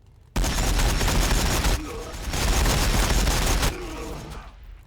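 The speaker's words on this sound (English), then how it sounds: "Warbikers firing, boss!" Ork warbikers in Warhammer 40,000: Battlesector unleash loud, dense sustained gunfire in two heavy volleys with a brief dip between, then the barrage cuts off and fades.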